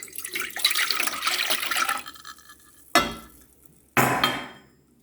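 Two cups of water pour and splash into a pot for about two seconds while making dumpling dough, followed by two sharp metallic clanks that ring out and fade.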